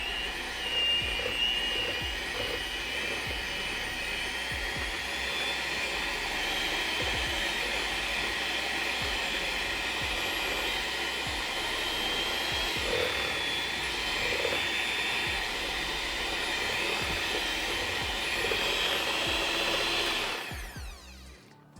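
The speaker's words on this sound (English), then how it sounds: "So we're going to whisk it more." An electric whisk whips shea butter cream with a steady, close, high whirring drone that runs unbroken for about twenty seconds, then cuts off abruptly.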